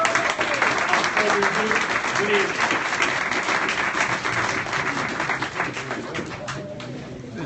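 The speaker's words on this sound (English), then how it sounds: "Let's give them a round of applause." Audience at a televised candidates' event gives a sustained, dense round of clapping that fills the room from start to finish, gradually easing near the end, with a brief voice speaking over it.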